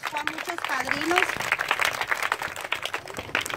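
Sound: audience applause for award recipient

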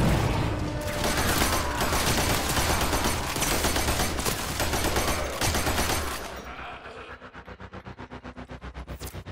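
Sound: sentry gun firing in the video game Warframe

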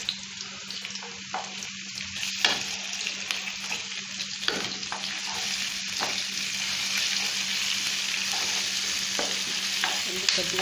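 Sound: ginger garlic paste frying with onions

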